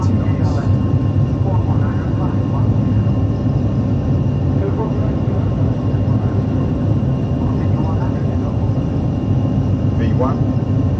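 Aircraft engines at takeoff power during the takeoff roll, a loud steady low roar with rumble filling the whole clip, with occasional faint voices in the background.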